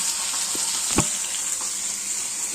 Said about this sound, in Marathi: थोडेसे पिवळसर होईपर्यंत आपण फ्राय करून घेऊया